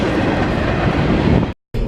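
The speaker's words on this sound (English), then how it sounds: "Look at the train!" A passing train rumbles loudly and close, a dense continuous roar with rail clatter that cuts off abruptly near the end before resuming.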